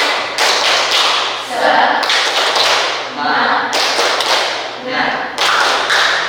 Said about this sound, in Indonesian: Supaya semua semangat, kita tepuk semangat dulu.